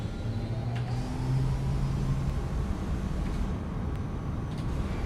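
The engines of an L1011 Tristar airliner in Microsoft Flight Simulator 2024 spool up into a steady, moderate roar, a continuous broad rumble with a faint hum layered beneath it.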